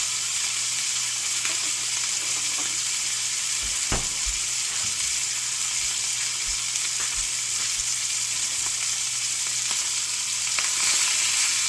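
Beef chuck steak fries in a hot pan with a continuous close sizzle, joined by occasional utensil knocks and scrapes against the pan.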